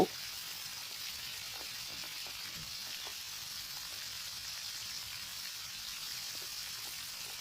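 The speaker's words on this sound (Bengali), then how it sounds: "চুলায় কড়াইতে পরিমাণ মতো সর্ষের তেল ভালো করে গরম করে নিয়ে মাছগুলো দিয়ে একটু ভেজে নেব" Koi fish fry in hot mustard oil in a wok, giving off a steady, close, even sizzle with faint crackles throughout and no voices.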